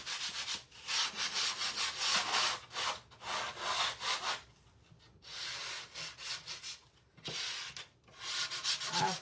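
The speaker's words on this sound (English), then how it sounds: "I like sanding the edges as well." Rhythmic back-and-forth scraping of sandpaper on the edges of a wooden board, close and steady, in several bursts separated by short pauses.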